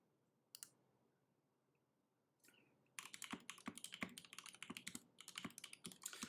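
Typing on a Zlant mechanical keyboard with Tealios switches and GMK keycaps: a couple of isolated clicks, then a fast, steady run of close, crisp keystrokes with a quiet room behind.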